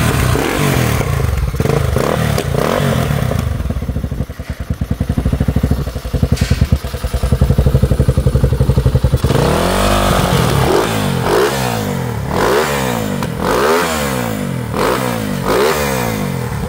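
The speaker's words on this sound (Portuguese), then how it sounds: "Liga aí pra galera ver o barulhozão do motorzão." A Honda Twister motorcycle fitted with a 290 cc engine kit and running on gasoline, revving loudly on a dynamometer: a steady rough idle first, then repeated throttle blips rising and falling in a rhythmic series, close and alone.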